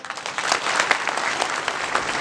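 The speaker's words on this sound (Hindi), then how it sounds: "तालियां" Crowd applause at an outdoor Adivasi community gathering honoring those who struggled to install a statue; dense, continuous clapping from many hands, fairly close and sustained throughout.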